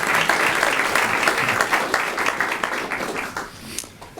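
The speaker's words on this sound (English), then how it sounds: "So let's give a big round of applause." A room full of people clapping for panel introductions at an angel investor meeting, brisk and sustained, then tapering off near the end.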